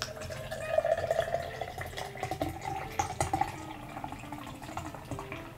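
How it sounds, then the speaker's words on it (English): Boddingtons Pub Ale, an English bitter, poured from a can into a glass, giving a soft gurgling trickle and fizzing foam close by, quiet and continuous for several seconds. "we're gonna pour it like a nitro beer, I guess, into this glass."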